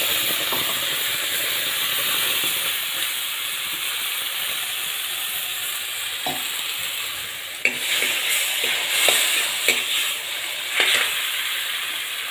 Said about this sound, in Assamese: জলকীয়া এই পেষ্টখিনি ইয়াতে ঢালি দিওঁ।